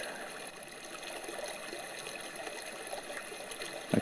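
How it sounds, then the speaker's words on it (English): Rising river water flowing steadily, a soft continuous trickling and burbling wash with a slight splash near the end, faint and alone. "Even so, the water continues to rise."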